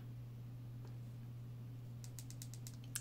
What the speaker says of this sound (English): Triple click again to turn the flashlight on.